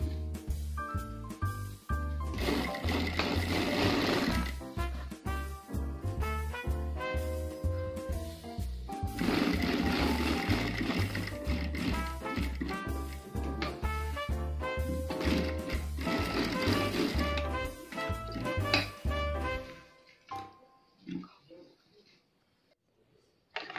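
A sewing machine stitches the square pocket opening on a night gown, running in long loud rapid rhythmic bursts with short pauses, then stopping near the end, leaving quiet handling.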